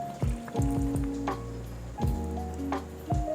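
Rava dosa batter of semolina and salt being stirred with water in a bowl, giving a few wet, dripping splashes and squishes at irregular intervals, fairly close and moderately loud, with no talking.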